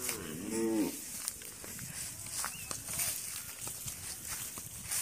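A cow on a Padma River sandbar lets out a single low moo at the start, followed by quieter rustling, shuffling and faint outdoor background sounds.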